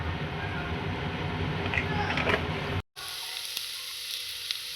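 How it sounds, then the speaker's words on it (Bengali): Potatoes being sautéed in a pan give a loud, steady sizzle and crackle nearby, with a brief drop to silence partway through before the frying resumes. "এই দেখুন কত সুন্দর আলুটা কষানো হয়ে গেছে একদম"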